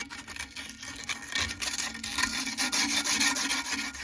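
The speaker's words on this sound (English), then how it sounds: "We're gonna sand it down anyway." Metal motor shaft from an air handler being sanded by hand, a close continuous rubbing rasp in uneven strokes that grows louder toward the end, no talking.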